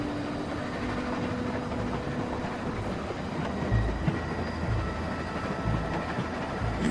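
A moving train in The Walking Dead video game rolls along with a continuous dense rumble and occasional low clacks of the wheels on the track, steady and close throughout with no voices.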